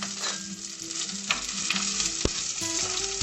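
Chopped shallots frying in a pan for a Sri Lankan coconut-milk sothi, a steady close sizzle with occasional stirring scrapes and small pops, no talking.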